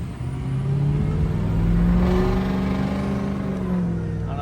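A 6.0 Powerstroke diesel flip truck accelerates under load while towing a trailer, its engine drone climbing steadily with turbo boost, loud and close, with no speech.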